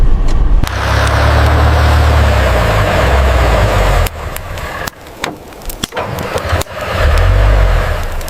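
A car drives through a snowy winter blizzard with its engine droning steadily and loudly up close. The drone drops away midway into scattered knocks and rattles, then the engine hum swells back in.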